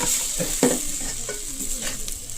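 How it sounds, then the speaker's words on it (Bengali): Fried sabudana being stirred in a pan, with a steady sizzle and several clearer scrapes and knocks of the spoon against the metal, all close by and without speech. "সাবুদানাগুলো দিয়ে এখন ভালো করে নেড়ে চেড়ে নামিয়ে নেব।"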